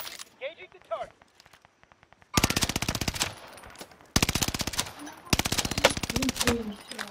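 Rapid automatic gunfire in the video game Call of Duty: Modern Warfare, loud bursts of dense rattling shots separated by brief gaps, with quieter game sounds and voices before the shooting starts.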